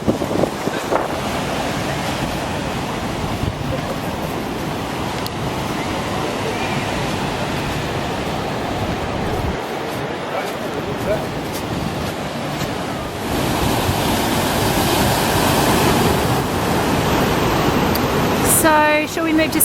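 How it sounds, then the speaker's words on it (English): Ocean surf washing continuously onto a Sydney beach, a steady broad roar with wind buffeting the microphone, swelling louder in the final seconds, with faint voices in the background. "I can't get my eyes off the waves"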